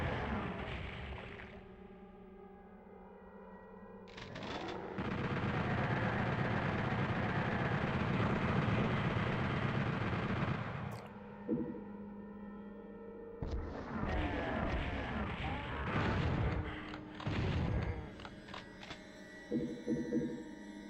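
Chaingunner enemies firing in Final Doom's Plutonia on the PS1, rapid bursts of gunfire mixed with game sounds that come in long sustained stretches, with a quieter gap in between and shorter bursts near the end.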